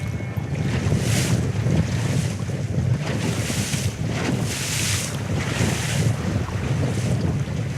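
Strong wind blows steadily along a lake shore in the Baie-James region of Quebec, a constant broadband roar with gusts swelling every second or so and water lapping underneath, loud and close with no voices.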